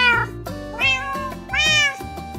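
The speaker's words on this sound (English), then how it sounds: "Now let's add some cats." Minecraft cats meow three times in a row, each cry clear and close with rising and falling pitch, with short pauses between them and no talking.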